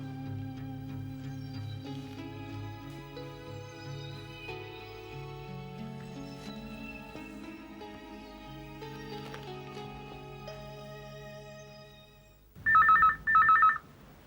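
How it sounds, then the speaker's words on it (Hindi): A telephone rings in two short, bright electronic bursts near the end, entering abruptly after soft background music fades. "जा फोन उठा, फोन बज रहा है।"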